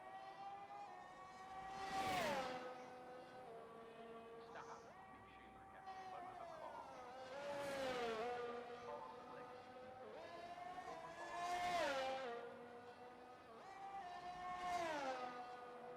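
A Mercedes F1 car in a racing game on the Jeddah circuit, its high engine whine rising and falling through repeated upshifts and downshifts, loud and continuous, with a commentator talking underneath.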